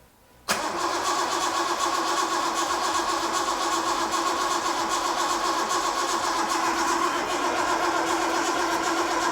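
A home-built Datsun 240Z engine catches abruptly after a brief quiet moment, then settles into a steady, loud, close idle with an even rumbling pulse that runs to the end.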